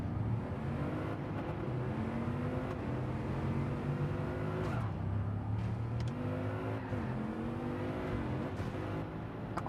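A racing car engine revs continuously in the video game Gran Turismo 7, with shifting pitch as it accelerates and brakes, loud and steady for several seconds with no talk.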